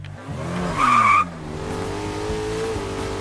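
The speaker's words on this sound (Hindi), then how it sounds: "अरे मुंशी गाड़ी लेकर भाग रहा है, चलो।" A car screeches its tires in a loud, brief skid, then its engine revs on steadily as it speeds away close by.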